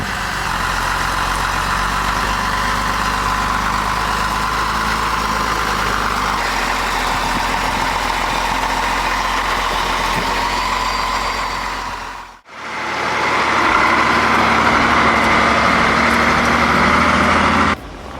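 Old Scania TGB 30 truck's diesel engine idling in freezing winter cold at minus 15 degrees, a loud steady rumbling drone that cuts out briefly and resumes just as strong.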